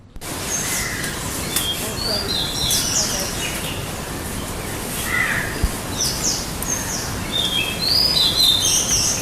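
Bulbuls calling in a garden, several short bright chirps and whistled phrases scattered over steady outdoor background noise, with other birds faintly present.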